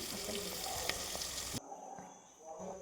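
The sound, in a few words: frying chopped tomato for biryani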